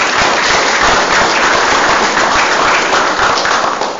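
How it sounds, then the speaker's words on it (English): Vigorous applause from the audience at a city council meeting, a loud, sustained crackle of many clapping hands with no talking over it. "Let's give them a big round of applause."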